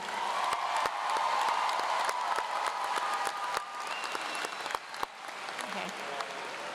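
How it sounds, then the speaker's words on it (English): Graduates and guests applaud at a college commencement ceremony, producing dense, sustained clapping across a large hall that gradually thins, with a few scattered louder claps and faint voices near the end. "Graduates, join me in a round of applause for everyone who got you to this point."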